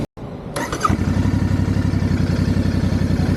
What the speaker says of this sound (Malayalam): 270° ഫയറിംഗ് ഓർഡറിൻ്റെ സ്വീറ്റ്നെസ് ആണ് ഈ കേൾക്കുന്നത്.